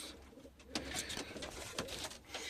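Pigeons in a breeding loft coo softly and repeatedly nearby, with a few quiet overlapping calls and no talking.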